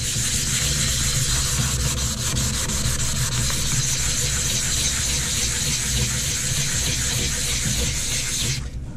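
Wet sanding of a hydrofoil with sandpaper and water produces a steady, continuous wet rubbing and swishing that runs nearly unbroken at close range before cutting off at the very end.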